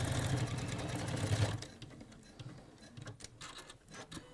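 A home sewing machine stitches fabric for a striped quilt, a loud rapid mechanical whirr for about a second and a half that then stops, leaving faint handling clicks and a quiet room.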